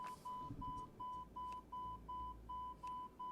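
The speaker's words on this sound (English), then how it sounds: "There's a master alarm of some kind." Master caution alarm in a flight simulator game: a steady repeating electronic beep tone, about a dozen evenly spaced pulses at a brisk rhythm, loud and clear over low engine-like rumble.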